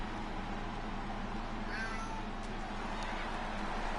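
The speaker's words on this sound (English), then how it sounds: "Yes, you can hear Devil Cat whining in the background." A cat whines faintly in the background, a few thin, short meowing cries rising over a constant low hum.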